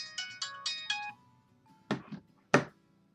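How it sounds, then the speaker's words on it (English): A cell phone rings in a visual novel game, four short electronic ring bursts in quick succession, then silence, followed by two louder thumping taps near the end. "I put my ear to the ringing cell phone"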